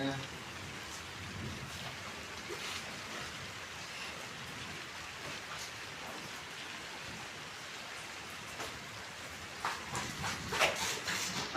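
Steady rain falls throughout, a dense hiss with scattered drops, growing a little louder near the end.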